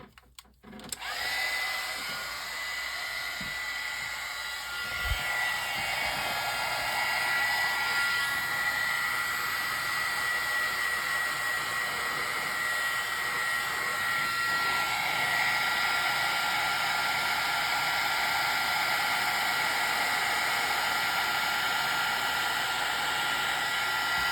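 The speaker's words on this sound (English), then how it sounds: "now I'm going to turn the heat gun on, so watch your ears" Heat gun blowing hot air over embossing powder: a steady, loud whooshing drone starts with a click and holds evenly for over twenty seconds, close and unbroken, with no speech.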